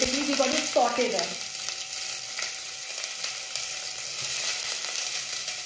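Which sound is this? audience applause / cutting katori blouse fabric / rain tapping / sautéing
sautéing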